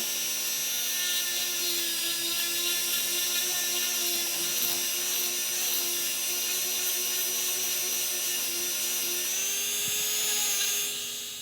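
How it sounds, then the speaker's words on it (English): A Dremel rotary tool grinds steadily at a high, whining pitch while shaping a model head, running continuously at close range for the whole stretch with no talk. "for this, I usually use a Dremel"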